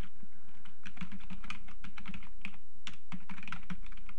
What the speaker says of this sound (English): then we're going to enter the email address